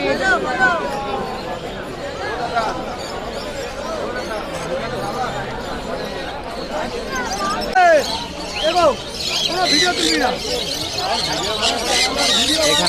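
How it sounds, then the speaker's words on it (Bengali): Many caged birds squawk and chirp over crowd hubbub at a cheap bird market in Shyambazar, Kolkata, with repeated shrill calls rising above steady background chatter and nearby talk. "ভালো ভালো পাখি রয়েছে এখানে"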